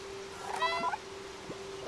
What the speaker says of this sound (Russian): Не мяукай.